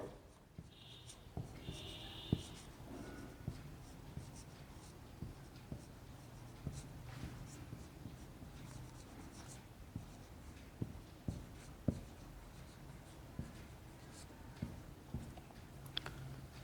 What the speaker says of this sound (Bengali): যেমন আমি একটা উদাহরণ এখানে লিখে দিচ্ছি